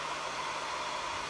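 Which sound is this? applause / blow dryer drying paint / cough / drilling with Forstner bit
blow dryer drying paint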